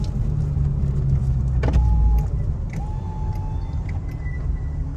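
A car idles and rolls slowly up to the entrance ticket booths at an Oulton Park supercar event, a steady low engine rumble close by, with brief clunks and a faint whine.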